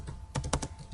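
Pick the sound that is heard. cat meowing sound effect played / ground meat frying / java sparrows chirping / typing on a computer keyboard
typing on a computer keyboard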